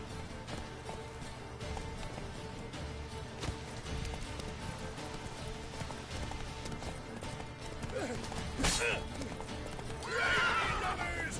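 Hooves clip-clop in a steady galloping rhythm, then a horse neighs loudly near the end, from the game The Witcher 3: Wild Hunt, with a synthetic game-like quality and low background noise.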